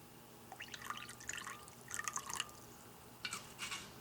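Fish sauce poured into a noodle stir-fry, heard as faint liquid drips and splashes in short bursts over quiet kitchen background, with no voices.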